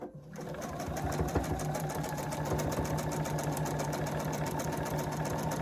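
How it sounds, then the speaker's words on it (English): A sewing machine runs steadily while stitching a long quilt seam, its rapid, even needle chatter holding close and continuous for several seconds after a brief start. "We're going to sew between this 4 and 5."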